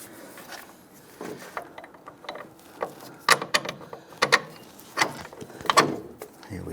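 A lower strut bolt is fitted on a 2011-2021 Jeep Grand Cherokee during a front strut and spring swap, with sharp metallic clicks, clanks and ratcheting taps coming in irregular bursts, close by and without talk.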